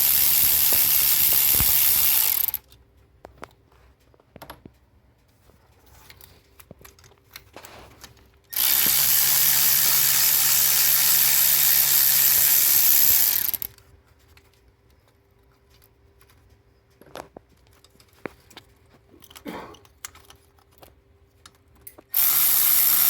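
A ratchet works on bolts on a Ford Flex engine during a fuel injector and spark plug job, running in two long, loud mechanical bursts with quiet pauses between them and a third burst starting at the end.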